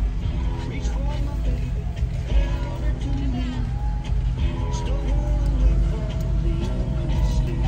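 Engine rumble of road traffic moving nearby on a street in Ghana, with vehicles passing under continuous street chatter and voices.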